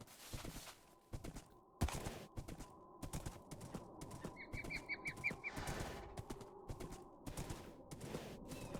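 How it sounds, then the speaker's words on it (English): Birds in a video game sky give a short burst of bright chirps partway through, half-masked by steady footsteps and hoof-like clip-clop. "A lot of birds in the sky,"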